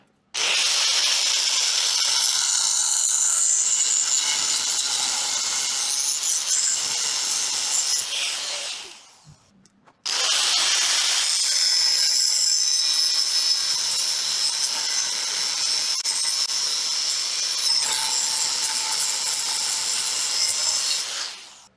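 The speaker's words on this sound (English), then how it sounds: "I'm going to cut these two pieces of rebar in half" A power saw slices through steel rebar in two long, loud cuts close by, each grinding on for about nine seconds, separated by a brief pause with no talking.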